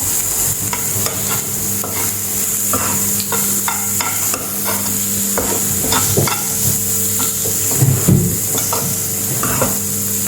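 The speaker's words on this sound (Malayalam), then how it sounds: "ഇതെല്ലാം ഇട്ട് ഒന്ന് ഇളക്കിയെടുക്കാം." Onions with coriander powder and pepper powder being stirred in a hot pan for Kerala-style mushroom thoran, a steady sizzle under repeated scraping and clinking of the spoon against the pan, close and fairly loud, with no talk.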